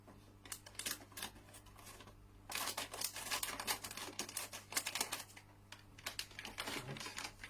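Packets of Japanese snack chips, including blueberry-flavoured potato chips, being cut open, with close crinkling and snipping of plastic film in a steady run of small crackles over a low constant hum.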